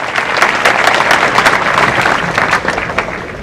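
An audience at a school annual function claps steadily, a dense, loud wash of many hands filling the hall evenly from start to finish with no voices rising above it.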